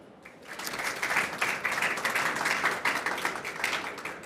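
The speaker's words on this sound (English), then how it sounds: "Please do join me in giving our speakers a warm round of applause and welcome" An audience at a climate change panel conversation applauds to welcome the speakers, a dense, steady patter of many hands clapping for several seconds before tapering slightly.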